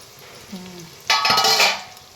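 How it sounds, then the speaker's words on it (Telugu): Onions sautéing in a pan over a low gas flame give a steady soft sizzle that swells after a brief scrape of a utensil, continuing evenly with faint stirring, no talking. "Onions hmm. మగ్గుతున్నాయి సిమ్లో"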